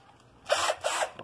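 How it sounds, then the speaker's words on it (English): Two short bursts of a power drill whirring through a fiberglass Camaro hood, each with a rising and falling pitch, close by. "drill a hole through the fiberglass"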